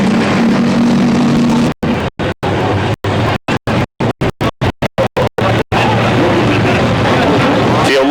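Late model stock cars rumble and rev at Motordrome Speedway, a loud, continuous engine drone that cuts out repeatedly in choppy dropouts midway before resuming steadily, with an announcer talking over it.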